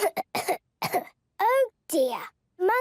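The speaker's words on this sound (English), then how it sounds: "Monkey has a bad cough" A cartoon monkey toy coughs in a children's animated show, a string of short, loud coughing bursts mixed with squeaky, childlike vocal sounds, close up and with gaps of silence between them.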